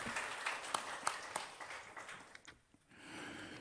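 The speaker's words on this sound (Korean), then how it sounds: "기도의 박수를 우리 하나님 앞에 올려드리겠습니다." A church congregation claps during a Sunday worship service, a soft, fairly distant patter of many hands that thins and dips briefly before a low murmur swells back.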